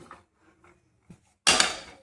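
A few soft taps, then a kadhai is set down on the stove with a sharp metallic clatter that rings and fades out.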